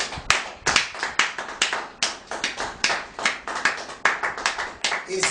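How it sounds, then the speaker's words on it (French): A church congregation claps together in praise, a brisk, close, continuous run of many hands striking in a loose, fairly even rhythm, with no voices standing out. "On peut acclamer pour la gloire de Dieu"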